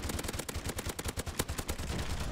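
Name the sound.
gunfire in Call of Duty 4 video game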